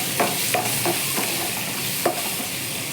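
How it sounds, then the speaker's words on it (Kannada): Tomatoes fry in a pan, giving a steady close sizzle broken by a few brief scraping stirs, with no voices. "ಇವಾಗ ನಾನು ಟೊಮೆಟೊ ಹಾಕ್ಕೊಂಡು ಇದು ಟೊಮೆಟೊ ಹಸಿ ವಾಸನೆ ಹೋಗೋವರೆಗೂ ನಾನು ಫ್ರೈ ಮಾಡ್ಕೊತೀನಿ"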